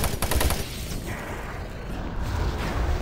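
Rapid bursts of gunfire and clattering weapon mechanisms from the video game Doom 3: Resurrection of Evil open into a dense, noisy roar. The volume stays loud throughout and no one talks.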